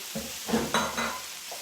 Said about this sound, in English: And we're going to add our potatoes. Going to mix those in there as well.